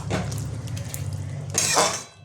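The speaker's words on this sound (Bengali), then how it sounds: "চিংড়ি মাছটা দিয়ে নাড়বো।" Fried shrimp is stirred into a cooking pot for a Bengali-style shukto with dhulo shak, giving brief metallic scrapes and clinks of utensil against pot, with a louder scrape near the end and no talking.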